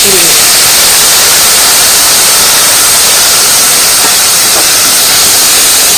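Hot chilli spice masala hisses loudly after water is poured into the pan, a dense, close, continuous steamy sizzle that holds at full strength from start to finish.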